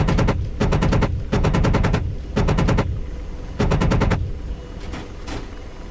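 Aircraft guns blaze in the DCS flight simulator, rapid machine-gun bursts of about half a second to a second each, repeated five times with brief gaps, loud and close with no speech.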